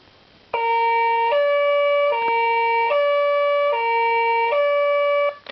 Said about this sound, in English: The Euro Siren.